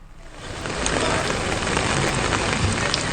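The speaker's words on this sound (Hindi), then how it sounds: "लगातार मूसलाधार बारिश है, वो दौर चल रहा है।" Heavy torrential rain pours down steadily in Dholpur, Rajasthan, during a downpour that has continued for over a day; a dense, loud, unbroken hiss swells in the first half second and then holds level, with no voices.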